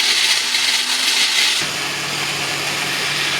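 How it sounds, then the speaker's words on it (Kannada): A mixer grinder blends sago with milk for halwa, making a loud, continuous motor whir close by that drops slightly in pitch and tone partway through and then runs on evenly. "ಹಾಲು ಹಾಕೊಂಡು ಮಿಕ್ಸಿ ಹಾಕೊಂಡು ಬರ್ಬೇಕು ನೋಡಿರಿ"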